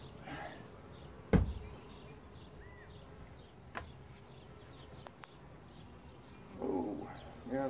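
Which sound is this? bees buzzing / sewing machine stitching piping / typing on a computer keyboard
bees buzzing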